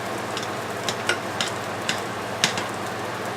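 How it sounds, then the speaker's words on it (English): Oatmeal being stirred in a pot on the stove for breakfast, a steady soft simmering hiss underneath a few light scrapes and taps of the spoon against the pot. "And then I stir up the oatmeal"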